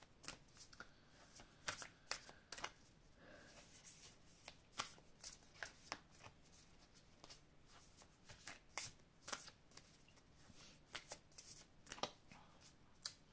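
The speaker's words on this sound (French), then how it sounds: "Alors, on va étaler les cartes. On va recouvrir le jeu." Tarot cards being handled and spread out on a table, a series of crisp flicks and soft slides of card stock, close and fairly quiet, with no talk.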